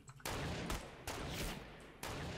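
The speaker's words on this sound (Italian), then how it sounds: "Io sento sparare un botto." Gunfire in the Fortnite video game comes as a few muffled bursts and sharp reports in quick succession, faint and distant-sounding.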